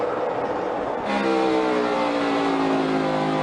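NASCAR stock cars racing toward the checkered flag at a close finish, a loud sustained engine roar that swells after the first second into a rising, droning rush as cars pass near.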